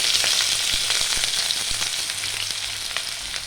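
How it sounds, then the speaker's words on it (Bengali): Two finely chopped onions fry in a pan with whole cumin seeds, giving a loud, steady sizzle with faint crackles throughout and no talking. "পেঁয়াজটা আমি হালকা করে ভেজে নেব।"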